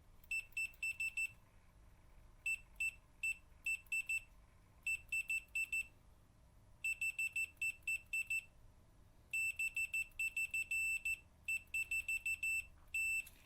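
A Fluke 175 True-RMS digital multimeter's continuity buzzer sounds in repeated short high-pitched beeps, sometimes rapid stuttering bursts and sometimes a longer steady tone, close and clear over a quiet background.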